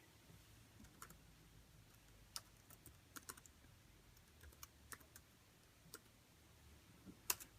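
Typing on the keyboard of a Samsung 303C Chromebook, scattered clicky keystrokes at close range, irregular and quiet over a low room hum, with a sharper louder key tap near the end.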